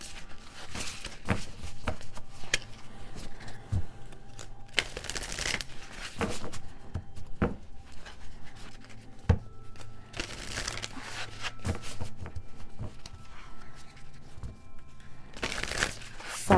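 Shaman's Dream Oracle cards shuffled by hand: repeated crisp riffling and papery crinkling bursts in irregular rhythm, close and moderately loud, with quiet pauses between handfuls.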